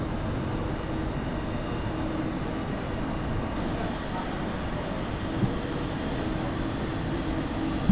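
A Nova train pulls out of a station at Bolton, a steady broadband rumble of wheels and traction held near and fairly loud for the whole stretch, with no voices.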